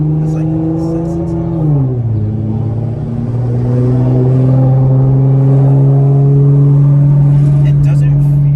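A Nissan GTR tuned past 750 horsepower pulls from inside the cabin, its loud droning engine note dipping at a gear change and then climbing steadily under load.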